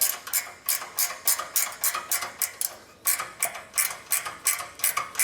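A ratcheting wrench clicks steadily while turning a fastener on a car during an exhaust over-axle pipe install, giving rapid, evenly spaced metallic ratchet clicks that repeat about four times a second, close and clear with a brief pause midway.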